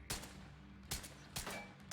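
Three sharp gunshots in the video game The Division 2, evenly spaced under a second apart, each a loud broadband crack over a low steady hum.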